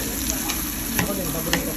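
Fish sizzling on an outdoor grill alongside shrimp, a dense steady crackling hiss with small pops, loud and close throughout.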